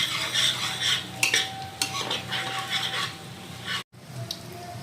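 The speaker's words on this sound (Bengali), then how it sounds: "এখন মশলাটাকে ভালো করে কষিয়ে নেব আমরা, যতক্ষণ মশলা থেকে তেল না ছেড়ে দেয়।" A spoon scrapes and clinks against the pan while masala spice paste fries in oil with a steady sizzle, and the strokes come close and repeat at an irregular pace.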